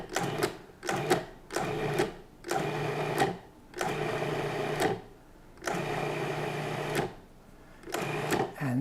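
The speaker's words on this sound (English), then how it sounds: "pulse the machine until it balls up around the food processor" A food processor whirs in a run of short, loud pulses as it mixes pie dough of flour, cold butter and liquid. About eight bursts of motor noise are separated by brief gaps, heard close with no talking.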